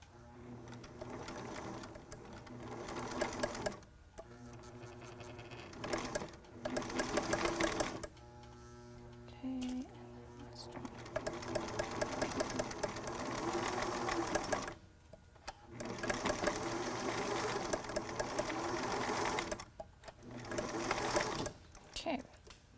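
A sewing machine stitching a face mask made from a T-shirt runs in several loud, close bursts of rapid mechanical whirring, stopping and starting between seams, with brief pauses of near silence.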